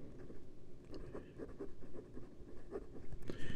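A titanium piston-filler fountain pen nib, a 2023 Asvine P36, writes on paper with soft, close scratchy strokes and small ticks, faint and irregular, with no talking over it.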